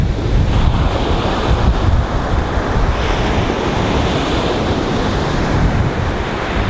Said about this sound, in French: Je vous montre un petit peu les vagues, je vous montre un petit peu l'ambiance de la mer.